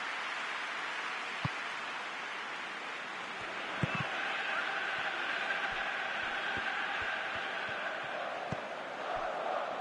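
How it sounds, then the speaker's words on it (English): A stadium crowd in a football video game keeps up a steady, broad roar and murmur for the whole stretch, with a few sharp knocks and clicks popping through it. "at least the crowd are appreciative of his efforts"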